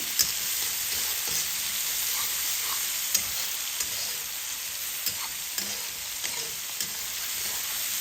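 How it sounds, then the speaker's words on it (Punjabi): Finely chopped onions and cumin sauté in a pan for halo bhurji, giving a steady, loud hiss of frying with occasional soft stirring clicks and no voices. "ਪਿਆਜ਼ ਨੂੰ ਆਪਾਂ ਹਲਕਾ ਜਿਹਾ ਸੌਫਟ ਹੋਣ ਤੱਕ ਭੁੰਨ ਲਵਾਂਗੇ"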